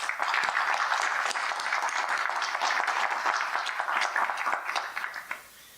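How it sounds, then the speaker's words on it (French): Sustained applause from a conference audience in a hall, dense steady clapping that holds strong for about five seconds before thinning and fading at the end. "je vous demande, si vous le permettez, d'applaudir fortement"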